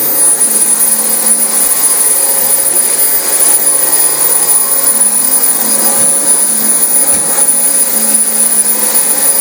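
A Dyson DC25 vacuum cleaner runs loudly and steadily up close on carpet, its motor giving a constant high whine with a rushing airflow roar.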